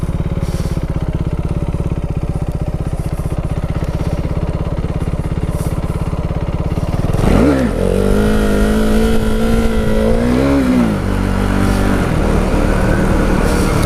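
A KTM Duke 390 single-cylinder motorcycle being ridden, a loud close buzzing engine under wind noise, then revving up and shifting through rising and falling pitch.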